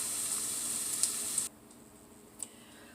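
Sausages and an egg sizzle in a frying pan, a steady bright hiss for a moment before it cuts to a much quieter sizzle, with a few faint ticks and clicks.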